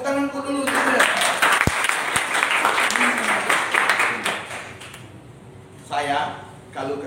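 Church congregation applauding during a Sunday worship service, a dense burst of clapping that swells and fades across the hall, loud and close, with a short second round near the end.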